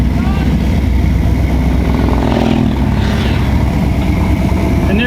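Motorcycles on a road, steady engine drone throughout with a passing swell around the middle, close and loud, with people talking over it.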